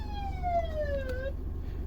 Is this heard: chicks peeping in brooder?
no